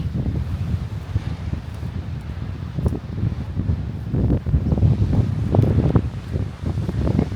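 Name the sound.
wind blowing by the sea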